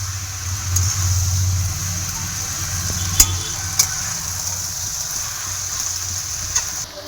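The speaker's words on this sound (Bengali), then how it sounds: "এবার মশলার সাথে পুঁই শাকটা ভালো করে মিশিয়ে নেবো।" Chopped Malabar spinach is stirred into spices in a frying pan, giving a steady soft sizzle with a few sharp clicks of the utensil against the pan, and no talk.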